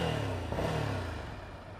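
A 2015 Ducati Scrambler motorcycle engine hums steadily while riding, a fairly quiet, low rumble that holds even throughout with slight rises and dips, with faint traffic noise around it.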